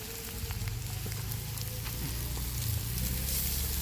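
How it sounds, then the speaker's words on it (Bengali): Chowmein noodles sizzle and crackle steadily as they are poured into a hot pan of fried vegetables and egg, a continuous close frying hiss with no talk. "এবার চাউমিনটা ঢেলে দেওয়া হবে।"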